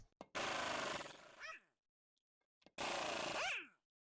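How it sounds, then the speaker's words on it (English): An impact wrench rattles loudly on the lug nuts of a Jeep Grand Cherokee in two separate bursts of about a second each, with a quiet gap between them and a falling whine as each burst ends. "take your impact and pop those lug nuts off"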